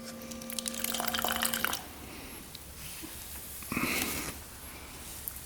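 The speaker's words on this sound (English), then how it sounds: "Let's see if that fuel pump's working. Let's see if anything pumps out of here." Gasoline spurts and splashes briefly from an ATV fuel pump into a carburetor, two short wet bursts separated by quiet, close and faint.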